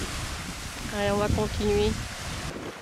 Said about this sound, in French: Voilà, là, il y a un petit peu de vent.